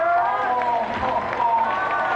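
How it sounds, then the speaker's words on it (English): A live theater audience applauds and cheers for a special guest, a steady roar of clapping from a crowd with a voice speaking over it. "I hope you'll give a big round of applause to little Calvin"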